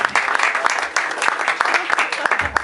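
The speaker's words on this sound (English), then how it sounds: "give him a round, another round of applause." A comedy club audience claps for a comedian, a brief burst of close, fairly loud applause with sharp individual claps and some voices mixed in.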